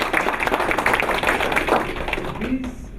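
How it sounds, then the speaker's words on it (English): Audience clapping in a dense patter of hands at a corporate gathering, fairly loud and steady before thinning out near the end. "Big round of applause for him."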